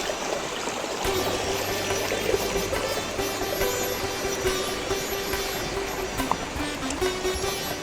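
A waterfall-fed stream at Panchalingeswar pours and gurgles in a steady, nearby rush that carries on unbroken, with small splashes rising out of the flow.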